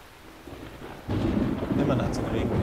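In the video game Metal Gear Solid 3: Snake Eater, a low rumble of thunder swells suddenly over steady rainfall, the storm growing louder and filling the space.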